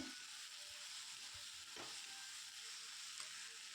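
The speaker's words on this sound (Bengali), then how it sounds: "আবার একবার ভালো করে নেড়ে জেড়ে কষিয়ে নেব পেঁয়াজের কলিগুলো" Onion stalks sautéing in a pan, a steady, quiet sizzle running throughout with a few soft scrapes and knocks as they are stirred, close but faint, no talk.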